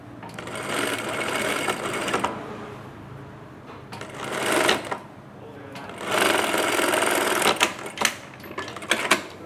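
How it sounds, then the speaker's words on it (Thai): Sewing machine overlocking the armhole of a blouse, running in two long loud bursts of rapid stitching separated by a short pause, with brief stops and starts near the end. "แล้วก็ไปโพ้งตรงนี้นะคะวงแขน"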